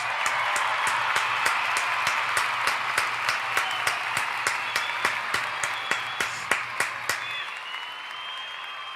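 Clapping in a regular steady rhythm over a continuous crowd-like applause bed, each sharp slap evenly spaced for about seven seconds before stopping, with a faint hum underneath.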